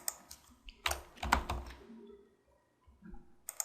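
Someone types on a computer keyboard in quick bursts of close, crisp key clicks, then a pause and a few more keystrokes at the end, with no voices.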